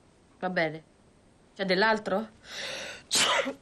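A single sneeze in an Italian TV drama scene, a loud breathy burst that follows a short exchange of conversation.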